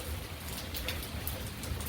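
Steady rain falls through a big thunderstorm, a dense, even hiss of drops on surfaces with no distinct thunderclap, heard close and continuous throughout.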